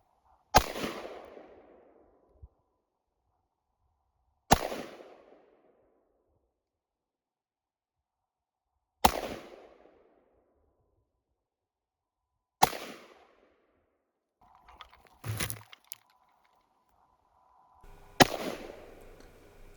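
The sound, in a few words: rifle gunfire while shooting in winter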